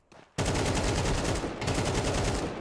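Rapid automatic gunfire from Counter-Strike 2, loud and sustained after a short quiet start, with a brief dip before the bursts continue.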